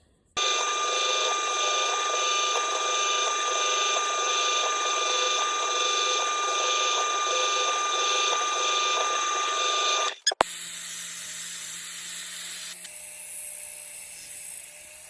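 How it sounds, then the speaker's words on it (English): A power drill whines steadily at high pitch for about ten seconds, loud and close, drilling holes in a toy RC car frame, then cuts off abruptly, followed by a quieter motor hum. "Now I can drill all the rest of the holes."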